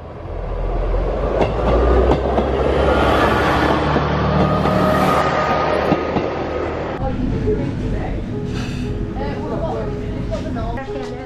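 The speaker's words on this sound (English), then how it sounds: "the train, it's all going on." A train passes near Whitby on the River Esk estuary, its steady rumble and clatter running loud and close for the whole stretch, with faint voices underneath.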